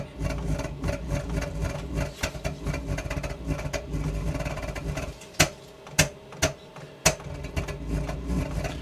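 An 8kW Chinese diesel heater burner runs roughly, giving a dense, steady mechanical rattle and whir with low rumble. In the second half it breaks into several sharp, irregular knocks or pops.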